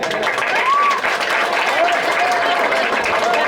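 A crowd at a local election debate claps loudly for two candidates, a continuous burst of applause with a few whistles rising above it.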